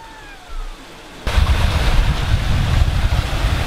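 A sailing boat arriving at the Rock of Gibraltar after an overnight passage from Almerimar, with a steady rush of wind and sea noise that jumps louder partway through and continues broad and close.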